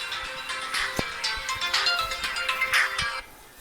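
A mobile phone ringtone plays a bright, melodic electronic tune at moderate volume, a continuous ringing phrase that stops abruptly near the end.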